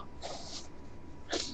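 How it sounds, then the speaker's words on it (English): A single human sneeze, a short sharp burst near the end after a quieter breathy intake, close and fairly loud with no other talk. "I'm just gonna sneeze."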